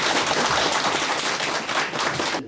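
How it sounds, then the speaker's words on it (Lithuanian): Audience applause at a March 11 commemoration event in Lithuania: dense, loud clapping from a crowd, sustained and then cut off abruptly. "Plojimai jiems."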